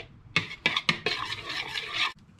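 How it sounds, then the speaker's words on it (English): A spoon scrapes and clinks against a bowl while ground black pepper is stirred into a grated mixture, with a few sharp taps and then a steady swirling rasp, close and fairly quiet. "I'll just give that a little stir up"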